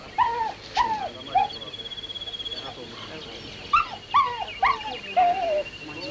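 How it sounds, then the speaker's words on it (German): Dog whimpering in a 1954 South Seas film, a series of high, drawn-out whines and yelps in short clusters, fairly close, against a quiet background. "Er kümmert sich nur noch um den Hund."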